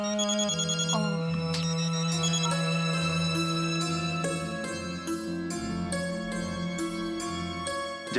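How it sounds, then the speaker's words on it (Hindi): A phone ringtone plays a bright, melodic electronic tune continuously and loudly, with no voices over it. "जतिन सेठ का फोन है ना?"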